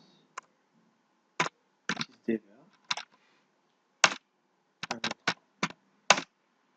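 Keys on a computer keyboard are tapped in short, separate bursts, a dozen or so crisp clicks spaced irregularly across a quiet room, with faint talk between them.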